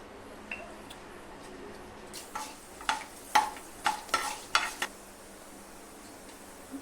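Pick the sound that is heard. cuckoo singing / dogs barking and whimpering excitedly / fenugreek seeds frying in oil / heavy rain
fenugreek seeds frying in oil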